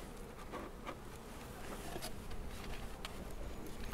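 Honey bees swarming around a hive feeder inside an empty super during a Bailey comb change, giving a dense, continuous buzzing hum close by that grows slightly stronger toward the end.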